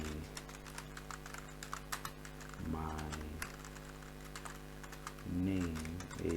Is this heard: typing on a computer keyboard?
yes